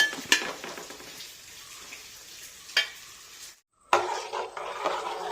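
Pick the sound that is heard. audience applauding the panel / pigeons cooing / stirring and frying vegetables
stirring and frying vegetables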